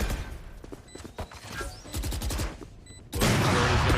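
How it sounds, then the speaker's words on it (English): Gunfire in the tactical shooter Valorant during a tense late-round fight, with a burst of sharp shots and crashes under crowd or game noise, ending in a sudden loud, dense wash of sound. "Dicey landing the shot, but it's traded off"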